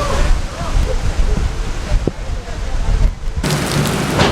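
Heavy rain pours down on the streets of Vienna, a dense loud hiss of water hitting the ground, close by and continuous, growing harsher toward the end.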